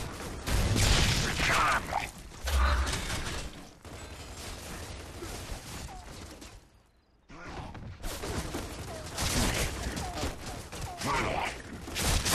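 Dense, loud bursts of gunfire in Gears of War 2 with mechanical clatter, briefly dropping to near silence midway before the shooting resumes.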